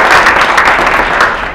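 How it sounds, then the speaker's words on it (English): Loud, continuous applause from an audience at a National Bar Association forum, a thick wash of many hands clapping together that holds steady and fades slightly at the end, with no voices over it. "let's give a big round of applause to Wille, Lee,"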